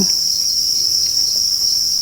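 Hungry farmed crickets chirp in a constant high, dense trill, loud and close, with no other sounds.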